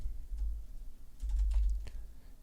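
Soft clicks of a few keys pressed on a computer keyboard, faint and close over a low background hum.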